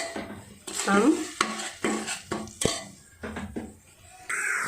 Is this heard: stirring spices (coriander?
yes